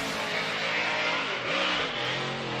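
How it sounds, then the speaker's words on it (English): A Formula Drift car's engine revs hard during qualifying, a loud sustained throttle roar that rises and dips as the car slides past. "Another consistent throttle note coming out of the backside as Chelsea Denofa"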